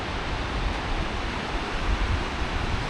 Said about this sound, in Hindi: यहाँ ये स्पीति नदी जा रही है